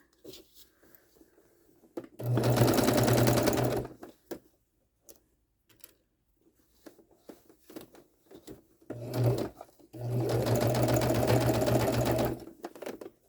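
Two bursts of a sewing machine stitching fabric, each running a couple of seconds with a steady mechanical whir, separated by quiet handling of fabric and pins, close and clear.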